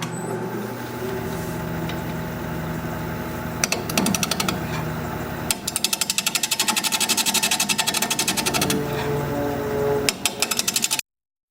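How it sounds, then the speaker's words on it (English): A wood lathe spins a live-edge alder bowl while a 5/8 inch bowl gouge hollows it, giving a steady motor drone under gritty cutting noise that breaks into rapid rhythmic chatter, then ends abruptly. "we'll get to hollowing this piece out"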